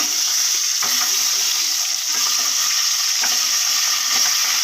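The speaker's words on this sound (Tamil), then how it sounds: "இந்த மாதிரி ஃப்ரை பண்ணி எடுத்துக்கணும்" Halved boiled eggs fry in a pan with salt and turmeric, giving a steady, loud sizzle with a few soft stirring scrapes, no voices.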